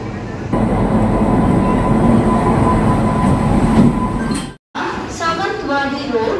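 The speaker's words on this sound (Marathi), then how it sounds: "ही आमची ट्रेन आली आहे." A passenger train pulls into Panvel station with a loud, steady rumble and rolling clatter. After a brief cutout, clinks and nearby voices of people on the platform follow.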